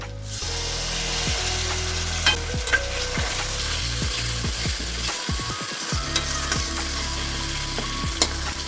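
Ground cumin, coriander, turmeric, dry chilli and green chilli cooking down in a pan with a splash of water, loud sizzling under repeated scraping strokes of a spatula, close and continuous without speech.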